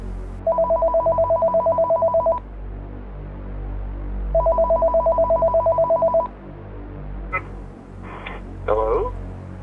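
A telephone rings for an incoming call, two long bursts of rapid electronic trilling separated by a pause over a low rumbling bed, then brief clicks and a short voice at the end.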